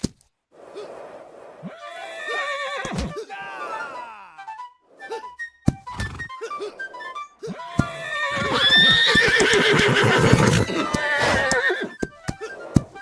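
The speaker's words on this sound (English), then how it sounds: "By a horse." In the war game Holdfast: Nations at War, horses neigh loudly in long, quavering whinnies, overlapping at times, mixed with hoof thuds and other battle noises.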